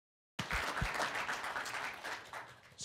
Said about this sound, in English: another round of applause for a medical student doing a great job